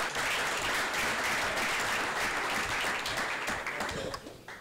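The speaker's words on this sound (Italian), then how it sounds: "Un applauso per Gianluca Gazzè." Applause at a football club press conference presenting a new player: steady, even clapping from a small crowd in a room, fading slightly near the end.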